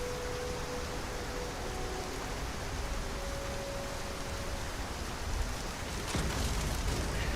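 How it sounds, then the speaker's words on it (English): Heavy rain in Skyrim (LoreRim modlist), a dense steady hiss of downpour filling the whole clip at constant level, with a faint tone in the background and a brief louder swell near the end. "This is a heavy ass rain."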